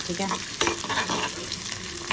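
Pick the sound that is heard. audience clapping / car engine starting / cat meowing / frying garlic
frying garlic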